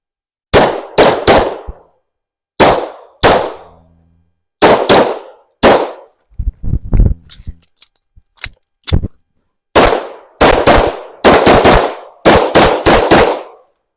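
Rapid strings of loud, sharp 9mm pistol shots from a Shadow Systems MR920 Combat fired at range targets, in tight bursts of two to four with brief pauses and a few fainter metallic clinks between.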